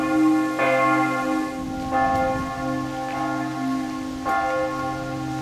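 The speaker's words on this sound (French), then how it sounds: "La cloche sonne pour aviser que les étrangers sont dans la ville." A church bell at Gruyères castle in Switzerland tolls, with loud, ringing strikes about every 1.3 seconds whose long, humming tones overlap and sustain between blows.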